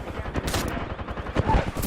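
Rapid bursts of gunfire in a first-person shooter video game, several shots cracking close and loud in quick succession.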